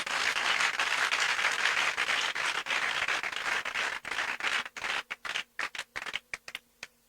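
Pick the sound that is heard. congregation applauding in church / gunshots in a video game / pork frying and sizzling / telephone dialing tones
congregation applauding in church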